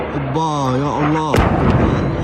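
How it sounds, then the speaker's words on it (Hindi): A bombardment explosion in Gaza: a wailing, voice-like tone is cut off by one sharp, loud blast followed by a rough rumbling tail. "قصف يا جماعة الآن"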